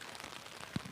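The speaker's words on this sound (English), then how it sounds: "I'm not liking the look of this rain coming down at the moment" Light drizzle falling during a local football match, a soft continuous hiss of rain with a couple of small dull thuds, steady and fairly quiet.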